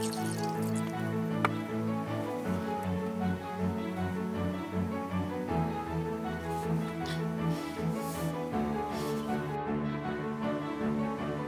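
Cold water is poured into a Doctor Who TARDIS heat-changing mug, a steady liquid dribble and trickle running beneath a continuous layer of background music with no pauses.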